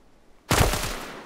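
Gunfire erupts in an online shooter video game: after near silence, a sudden loud burst of rapid shots rings out and decays with a rumbling tail.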